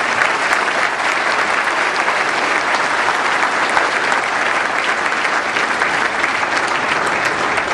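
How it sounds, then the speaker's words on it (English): Dense, sustained applause from a large audience fills the room, steady and loud throughout with no clear voices above it. "Would please give a round of applause to the graphics team."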